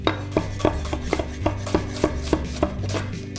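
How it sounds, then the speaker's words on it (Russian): Onion being chopped with a knife on an end-grain wooden cutting board, a run of sharp, evenly spaced knife knocks against wood, close and clear, with no talking. "Лук нарезал"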